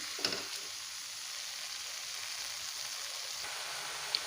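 Beans poriyal simmering under a lid in a covered pan gives a steady soft sizzle and faint bubbling hiss throughout, with a couple of small clinks near the start and end.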